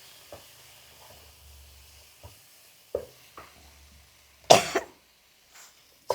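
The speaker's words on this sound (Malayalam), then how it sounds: "ചുമ വരുന്നു" Someone coughing in a home kitchen while a spice paste cooks: several sharp, separate coughs and one longer harsh burst stand out against a quiet low hum and faint sizzle.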